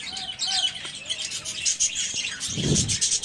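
Budgerigars chirp and twitter in quick, high, overlapping calls at close range, with a brief low thump partway through.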